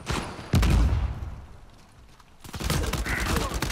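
Loud gunfire in the video game Uncharted 4 multiplayer: a heavy opening burst, a quieter lull, then renewed shooting, with voices talking over the action.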